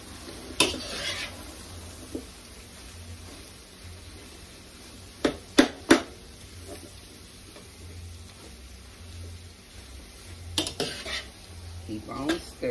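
Cabbage, bacon and sausages frying in a pan are stirred with a utensil, giving scraping and clinking against the metal over a low steady sizzle, with sharper clanks bunched near the start, middle and end.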